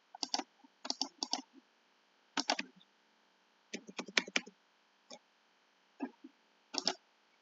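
Typing on a computer keyboard while working in Excel, with short bursts of quick, close clicking keystrokes separated by pauses, crisp and fairly quiet, with no speech during the bursts.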